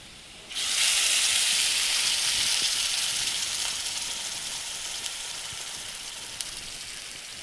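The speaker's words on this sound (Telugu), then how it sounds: "పోపు అయిపోయింది ఇప్పుడు ఉడికిన ఈ పప్పుని పోపులో వేసుకుందాం" Cooked dal poured into a hot tempering for methi dal sets off a sudden loud sizzle and hiss, close and steady, fading slowly over several seconds.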